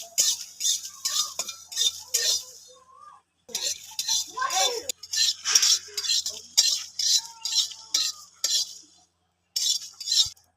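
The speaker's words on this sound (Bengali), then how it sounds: "কড়ার মধ্যে গোটা মশলাগুলো দিয়ে দেবো" Whole spices, three dried red chillies, cumin and coriander seeds roast in a dry wok, heard as bursts of scraping and rattling stirring separated by short pauses, fairly close and loud.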